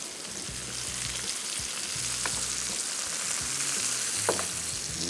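Chicken pieces frying in a pan, laid out one by one and turned: a loud, close, continuous sizzle with occasional sharp utensil clicks and scrapes, no voices.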